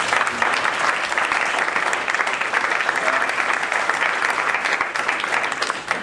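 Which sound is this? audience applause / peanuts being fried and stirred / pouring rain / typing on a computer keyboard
audience applause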